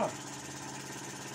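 An Empire B31 engine runs with its throttle open, making a steady, moderately loud, even hum with a slight rough flutter and no pauses.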